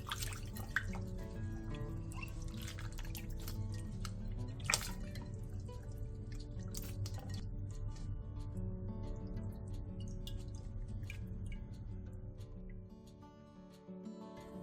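Water drips and trickles steadily as it drains from blanched lotus root that has been rinsed in cold water, a continuous, moderately loud wet patter with no voices.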